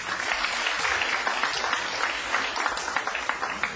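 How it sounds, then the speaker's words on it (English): Polite applause from the crowd at a professional nine-ball pool championship match, a moderate spread of hand claps from a sizable audience heard at a modest distance, steady for a few seconds. "Polite applause."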